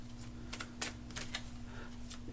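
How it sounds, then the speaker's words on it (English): Tarot cards riffle and slap softly in a run of quick, sharp shuffling clicks, faint and close, over a steady low hum. "hang in there with me while I get the card shuffled"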